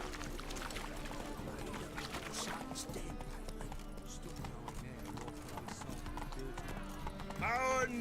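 Roach, the horse in The Witcher 3, gallops with a steady clip-clop of hooves over a dense game soundtrack, with game sound effects and voices running throughout.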